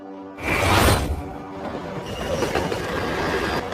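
A train roars in suddenly and loudly in an action film, then keeps up a steady, dense rumble and clatter of wheels on rails. No one speaks.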